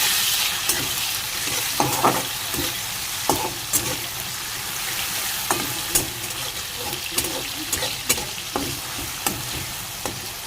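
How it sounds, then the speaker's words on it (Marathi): Onion and tomato stirred and fried together in a pan, a steady sizzle with repeated scraping strokes of a spoon at a regular pace throughout, close and alone with no talking. "कांदा थोडा लाल झाला त्याच्यात टाकूया टोमॅटो. ते एकत्र करून घेऊया."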